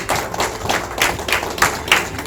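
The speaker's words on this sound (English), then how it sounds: "I think we all must stand up and give clap for him." Clapping from a group, a run of loose, uneven claps close by with no talking.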